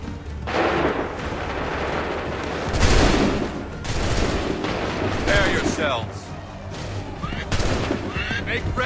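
Musket firing squad volleys in Assassin's Creed III, several loud crackling blasts spread across the clip amid battlefield noise, with shouted commands between them.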